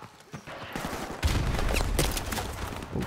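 Rapid bursts of automatic gunfire from Call of Duty 4: Modern Warfare, sparse shots at first, then a dense, loud volley of overlapping rifle fire that sustains and echoes, with a voice talking underneath early on.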